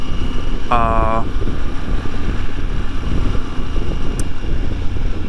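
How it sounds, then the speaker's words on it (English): Steady, loud wind roar buffets the microphone while riding a 2024 Triumph Tiger 900 GT Pro motorcycle, with a low engine drone underneath and a brief tonal whine early on. "A little bit of wind noise, but you're gonna get that practically with everything."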